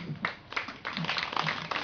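Applause for a guest at a community project launch gathering in Dzolo Kpuita, Ho West, Ghana: a brief burst of scattered hand clapping from a modest crowd, uneven and moderately loud.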